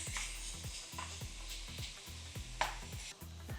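Apples soften in a pan with raisins, giving a faint, soft sizzle under a regular rhythm of low stirring scrapes repeating about three times a second, close but quiet.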